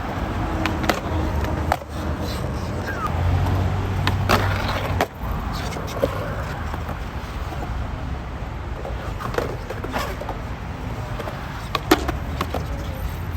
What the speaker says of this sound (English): Let me try to sit on a smith grind for like at least 2 feet to show